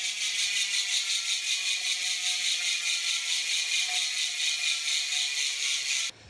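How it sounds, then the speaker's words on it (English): Freehub ratchet of Aim One bicycle wheels, a DT Swiss style ratchet hub, buzzing in a fast continuous clicking whir as the wheel spins freely, loud and close and steady throughout before cutting off abruptly at the end. "for those who love a free hub sound test,"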